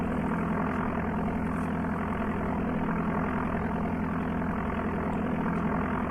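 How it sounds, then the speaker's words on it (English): Steady droning aircraft engine hum from the Amiga game Flight Simulator II, a continuous loud low buzz holding without a break throughout. "that engine sounds familiar"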